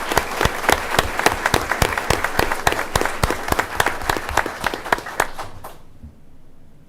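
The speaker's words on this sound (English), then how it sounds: "So if we give them another round of applause," An audience at a school board meeting applauds a group of athletes with rhythmic, fairly close clapping that holds steady for nearly six seconds, then stops and leaves a quiet room.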